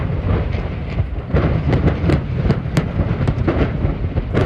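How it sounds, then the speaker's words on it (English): Tiny Chinese batteries burning and shooting off like projectiles, a dense roaring crackle with sharp pops and bursts rising over a steady rumble, loud and continuous throughout. "So those tiny Chinese batteries caught fire"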